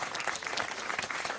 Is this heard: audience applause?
yes